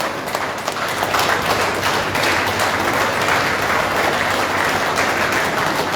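An audience at a formal Indian function claps continuously in welcome as a minister is invited forward, a dense, steady wash of applause from a large crowd throughout.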